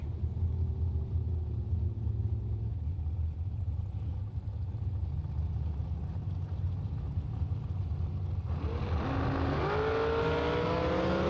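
Drag racing at Luskville Dragway as an undercover dragster and a Chevrolet Cavalier stage and launch: a continuous low engine rumble and idle builds, then near the end a loud rising rev sweeps upward as the cars accelerate away.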